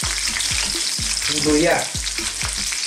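Chili and bay leaf hit hot oil in a pan, a steady close sizzle with rhythmic stirring scrapes and bursts of spatter, one voice briefly speaking.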